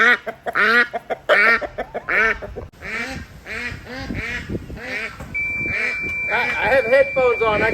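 Duck by a backyard pond quacking repeatedly and loudly up close, in rapid harsh bursts, with a person talking alongside and a thin electronic tone appearing partway through.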